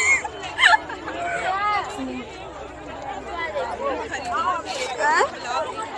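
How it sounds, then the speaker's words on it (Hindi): Crowd chatter at the Gulabbari market in Ayodhya, a busy hum of many overlapping voices close by, with some louder nearby talk rising above the babble. "बहुत ही ज़्यादा से ज़्यादा भीड़ रहती है यहाँ पे।"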